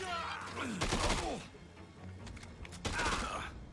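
Scattered enemy gunfire in Dead Rising 2, a few fairly quiet cracks and bursts mixed with game effects while two men chat over the action.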